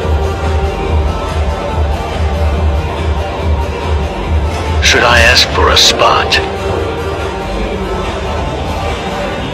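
A crowd gathers in a gym, its steady low murmur of many voices running continuously beneath one nearby speaking voice.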